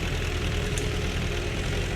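LTZ T-40AM tractor idling in Farming Simulator 17, a steady low diesel rumble held at constant level throughout with no speech.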